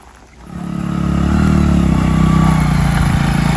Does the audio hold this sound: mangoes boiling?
no